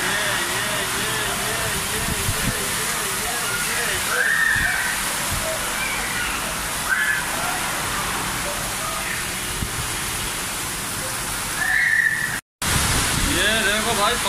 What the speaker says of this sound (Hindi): ये देखो भाई पानी रियाद में कितना गिर रहा है यार